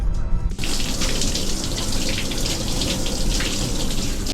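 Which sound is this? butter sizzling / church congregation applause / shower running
shower running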